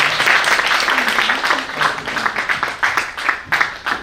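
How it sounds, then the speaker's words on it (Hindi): Audience applause at an arts and culture literary event in Jaipur, a dense crowd clapping that carries steadily through the whole stretch, with a voice briefly audible underneath. "तालियों में कमी नहीं होनी चाहिए।"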